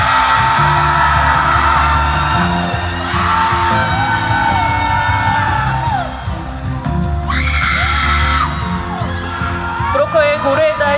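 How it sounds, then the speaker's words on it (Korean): A festival audience at an open talk in Busan cheers loudly, with whoops, shrill yells and scattered bangs over a constant crowd roar, and a few sharp whistling shrieks near the end. "박수 부탁드립니다."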